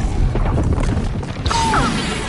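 A loud, close blast of crashing booms from a frag grenade going off during Black Ops 6 Zombies on the Terminus map, a dense burst of impacts that fades into a short whistling tail.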